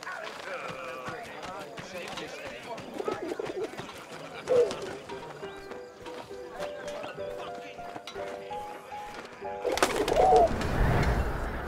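A messenger pigeon coos in the video game 11-11: Memories Retold, soft bird calls scattered across a busy game soundscape with musical tones and a louder swell of movement near the end.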